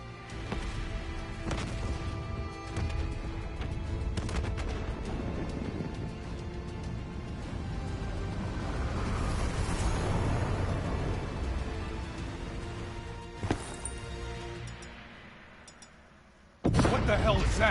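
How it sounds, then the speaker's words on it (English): Video game battle at a facility with rumbling explosions and scattered gunfire, a continuous dense roar building to a peak midway with a few sharp cracks, then a sudden loud burst at the end. "Hendricks, we have multiple explosions across the facility."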